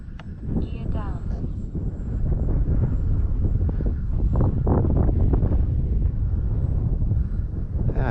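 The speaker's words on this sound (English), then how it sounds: "it's windy though" Wind roars steadily against the microphone under a constant engine-like drone from a radio-controlled FMS PC-21 Pilatus model plane, with a few brief voices near the start.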